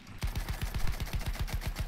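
Rapid automatic gunfire in Battlefield 1, a fast, evenly spaced burst of roughly a dozen sharp shots with booming low ends, loud and close, with no voices over it.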